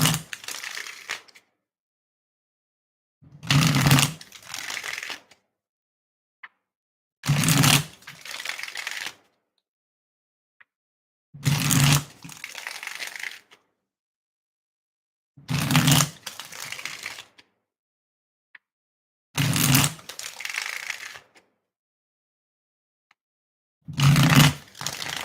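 Tarot cards riffle-shuffled in six separate bursts, each a loud, close flutter of card edges lasting about two seconds, with near-silent pauses between.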